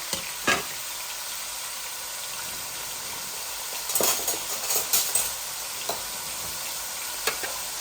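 Chopped onions sizzle and fry in a pan for a chicken korma, a steady low hiss with a few louder spatters and stirring scrapes around the middle, close and without speech.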